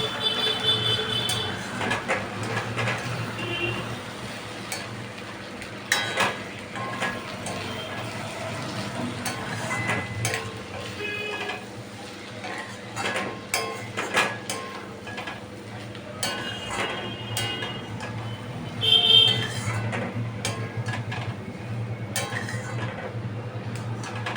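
Banana-stem pulao being stirred in a pot after ghee goes in, giving repeated spoon clinks and scrapes against the metal over a steady background hum, close by and fairly busy.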